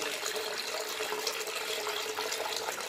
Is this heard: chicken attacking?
no